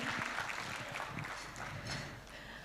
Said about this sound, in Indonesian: Tepuk tangan Bapak dan juga Ibu sekalian